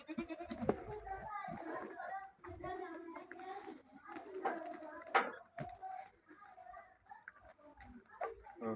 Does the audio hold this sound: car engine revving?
no